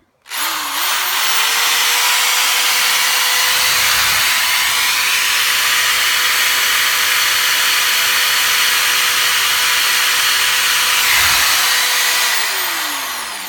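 A power drill runs off a Xantrex 2000 inverter in a campervan, one steady, loud, continuous whine that spins up, holds for about twelve seconds and winds down at the end, heard alone.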